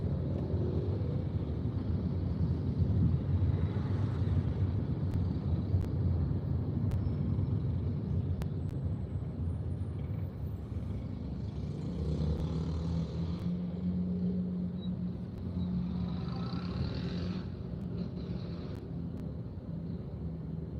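Steady low road rumble and engine drone from inside a moving car, continuous and even throughout with slight shifts in tone, no talking.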